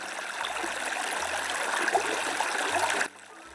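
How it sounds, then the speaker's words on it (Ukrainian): Steady flowing water, a small spring meltwater stream from thawing snow burbling and trickling continuously at close range, cutting off abruptly near the end. "Це веселий струмочок від талого снігу."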